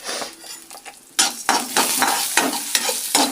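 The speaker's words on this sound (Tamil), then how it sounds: "நம்ம புளியை போட்டு நம்ம லைட்டாக வதக்கிக்கலாம்" Tamarind sautés in a pan for a mint thuvaiyal, with a loud, close sizzle and repeated scraping and tapping strokes of a spatula against the metal.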